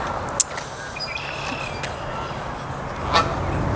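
A goose roosting in a tree beside a porcupine on an outdoor morning gives two short honks, a few seconds apart, over steady background hiss.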